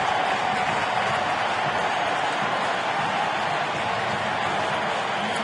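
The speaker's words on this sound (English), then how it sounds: "this crowd is revved up again" A packed baseball stadium crowd at a 2010 NLDS playoff game cheers in a steady, broad roar with applause, loud and unbroken throughout.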